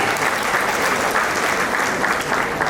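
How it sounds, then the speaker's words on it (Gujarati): Steady, vigorous applause fills a community reunion gathering in Surat, honoring the donor of the feast, with many hands clapping continuously at close range and no pause. "તો જોરદાર તાળીઓ સાથે વધાવીએ."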